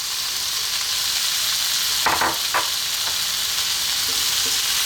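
Cold cooked basmati rice is folded into kedgeree frying in a pan, with a loud, constant close sizzle and a few soft spoon scrapes partway through.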